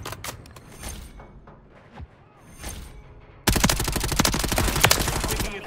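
Sustained rapid automatic gunfire from the video game Call of Duty: Warzone erupts loud and dense after a quieter stretch of scattered distant shots and rumble.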